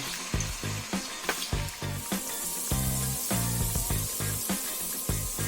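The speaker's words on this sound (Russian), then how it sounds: "Обжарить мясо так, чтобы оно стало коричневым." Meat browning in a pan for pilaf, a steady loud sizzle with crackling pops and occasional scraping stirs throughout, no voices.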